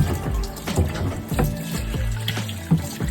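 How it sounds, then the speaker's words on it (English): Water runs steadily while a car's air box is rinsed out on a lift during a new build, a continuous close splashing and trickling flow with small gurgling shifts and no talking. "I'm gonna wash out this air box a little bit while we're in there"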